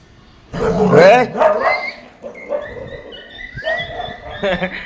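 Dogs bark and yip close by in short bursts, while a person's voice calls out over them.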